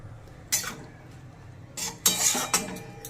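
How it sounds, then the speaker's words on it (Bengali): A spoon stirs bhindi do pyaza, okra fried with onions, in a pan. A few sharp metallic scrapes and clinks come in separate bursts, close and fairly loud, with a quiet low murmur between them. "ভালো করে সব মিশিয়ে নিয়েছি।"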